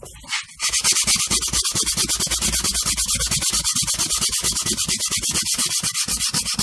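Aluminium rear window trim from an AC Cobra rebuild is rubbed briskly back and forth to remove scratches, giving a fast, even series of close, raspy scrubbing strokes that continues without pause and has no talk over it.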